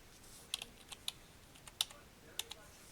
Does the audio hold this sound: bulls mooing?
no